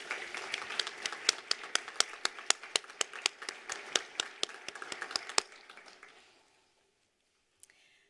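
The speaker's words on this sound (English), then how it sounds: "another round of applause" Audience at a nursing college graduation ceremony claps steadily in a dense, lively burst of applause that lasts about six seconds, then fades out into near silence with one faint tap near the end.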